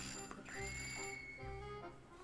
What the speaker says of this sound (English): Yeah, doorbell.